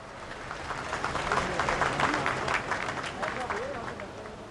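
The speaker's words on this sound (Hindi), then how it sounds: "इन क्षणों की शोभा बहुगुणित आप अपनी तालियों के माध्यम से करें।" Audience applause at a Ramayana conclave ceremony with the President present, a moderate, somewhat distant wash of clapping that swells and fades, with crowd murmur underneath.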